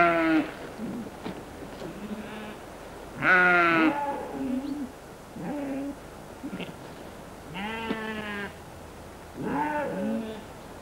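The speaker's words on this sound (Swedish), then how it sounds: "I en inhägnad hage hade fåren brått att äta sig mätta." Sheep bleat in a fenced pasture along a country road, several separate calls spaced a couple of seconds apart, fairly close and clear over a quiet outdoor background.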